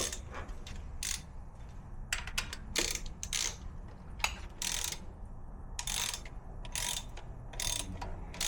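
A ratchet tightens a nut on the air cleaner of a 1968 Corvette, making bursts of quick clicking strokes with short pauses between them, close and fairly quiet, with no talking.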